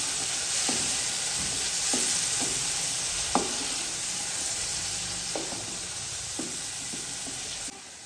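Four large tomatoes frying in a pot for chana pulao, a steady hissing sizzle with scattered clicks and taps of a spoon stirring, one sharper knock midway, and no talking.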